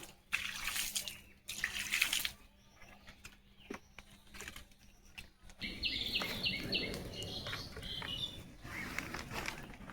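Dishes are washed under a running kitchen tap, the water starting as intermittent splashes and clatter and then settling into a steady, close gush for the second half, with faint bird calls in the background.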